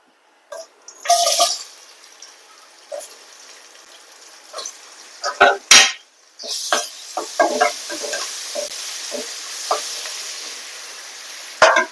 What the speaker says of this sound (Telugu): ఇగో 2 పచ్చిమిర్చి, ఒక ఉల్లిపాయ, కరివేపాకు, నూనె వేడైంది కదా, వేసేసుకుందాం తాలింపులో.